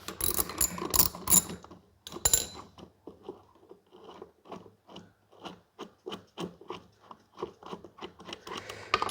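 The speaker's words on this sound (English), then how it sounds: "So I remove that bolt, and we have a washer that" Ratchet wrench clicking as it loosens a bolt on the rear wheel of a Honda lawn mower, a rapid run of close, sharp pawl clicks with a few heavier clanks at the start.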